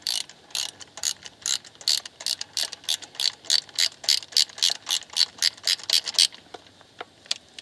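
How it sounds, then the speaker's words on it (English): Socket wrench ratcheting a spark plug loose on a 2010 Kia Soul 2.0, a fast run of sharp, close metallic clicks in steady rhythm for about six seconds, then a couple of stray clicks. "Obviously counterclockwise to pull out, clockwise to tighten."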